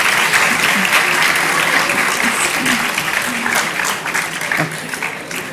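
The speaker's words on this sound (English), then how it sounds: "clap for yourselves" Audience of students and faculty at a Nobel Prize chemistry lecture event clapping together, a loud dense sustained applause across the whole stretch.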